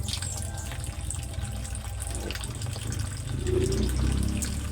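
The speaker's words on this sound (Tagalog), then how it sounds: "Yeah, sobrang hina ng tubig." A faucet runs as a weak, thin stream of water, a steady close splashing trickle that grows slightly fuller near the end, with no talk over it.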